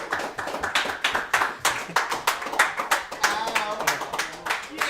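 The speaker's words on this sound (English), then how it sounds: "Please give these gentlemen a round of applause." A small group claps for a Liverpool boys' basketball player and his head coach at a restaurant gathering, giving distinct, rhythmic hand claps that pulse in quick bursts, close and fairly sparse rather than a full roar.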